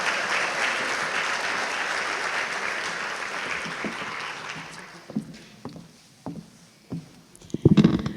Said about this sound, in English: Let's give a round of applause to our Learning T graduates once again.